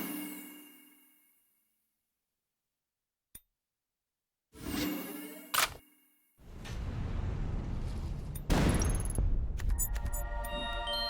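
Weapon fire from the ShellShock Live artillery game: a short click, then a loud whooshing launch with a blast, followed by a sustained roaring burst and a sharp impact with crackling digital tones.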